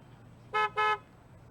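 Two short, loud blasts of a car horn, back to back, sound in the Car Dealership Simulator video game against a quiet background.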